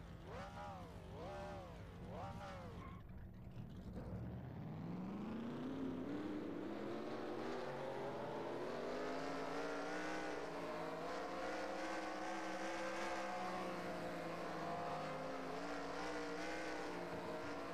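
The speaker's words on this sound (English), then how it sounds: "Drivers, start your engines!" Several race car engines in NASCAR Racing 2003 crank and fire up together, rising into a loud, sustained, layered idle roar that builds after a few seconds of quieter rumble and holds steadily to the end.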